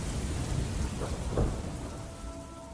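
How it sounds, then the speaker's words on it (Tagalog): Heavy rain pours in a dense, constant hiss while low rumbles of thunder swell and roll beneath it, with no voices. "mibiyahe kami ni Greg noon papunta kina Iza, hindi namin inaasahang bigla na lang bubuhos ang malakas na ulan habang nasa gitna kami ng daan"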